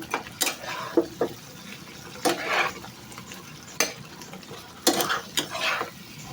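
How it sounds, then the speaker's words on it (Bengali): Fish being stirred into a thick, spicy Bengali curry, the ladle scraping the pan in several sharp bursts over a steady low sizzle, close and alone with no talk. "মাছগুলো দিয়ে নেড়ে চেড়ে ভালো করে নেব, যাতে মাছে মশলাগুলো ভালো করে ঢুকে"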